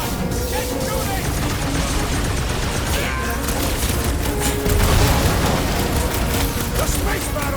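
Space battle full of dense continuous gunfire, booming explosions and mechanical clatter, loud and chaotic throughout with no pauses and a heavier blast surge partway through.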